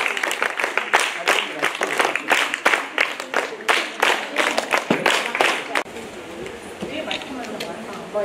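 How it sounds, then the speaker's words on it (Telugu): Loud applause from a school gathering welcoming children at the new academic year opening of Zilla Parishad Venkatapuram High School, with dense, sharp claps that thin out into a softer, scattered patter near the end. "చప్పట్లు గట్టిగా మరి పిల్లలకు ఘన స్వాగతం ఉండాలి"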